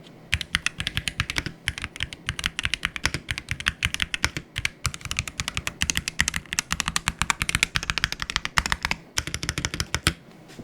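Rapid, crisp clicking of a gasket-mounted Waizowl Lightning 60 mechanical keyboard, typed in bursts with brief pauses, close and clear with no voices.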